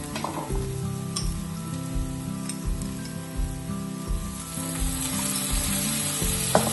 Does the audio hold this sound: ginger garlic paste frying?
yes